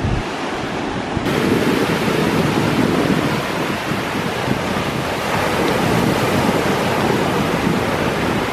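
Steady roar of ocean surf washing onto a beach, continuous and close, with wind buffeting the microphone throughout.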